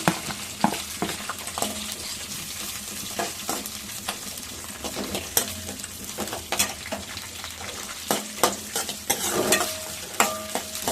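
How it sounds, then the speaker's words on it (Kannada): Capsicum and green chillies fry in a pan while being stirred, a constant sizzling hiss punctuated by frequent sharp scrapes and clinks of the spatula against the pan, close and fairly loud. "ಸ್ವಲ್ಪ ಫ್ರೈ ಮಾಡೋಣ ಈಗ ಸ್ವಲ್ಪ ಕ್ಯಾಪ್ಸಿಕಮ್ ಹಾಕ್ತಾ ಇದ್ದೀನಿ"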